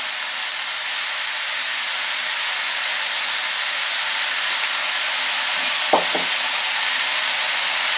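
Broccoli and mushrooms frying in a pan with chorizo, soy sauce and black pepper make a steady, even sizzle throughout, with a brief soft stirring clatter near the end.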